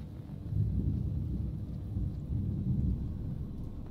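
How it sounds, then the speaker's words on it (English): Thunder in the video game Oxenfree, a low, continuous rumble that swells and fades, moderately quiet and heard alone with no talk. "Yeah, it sounds like thunder."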